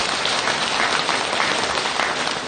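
Steady applause from a Buddhist temple congregation after a dharma talk, an even wash of many hands clapping throughout with no voices over it.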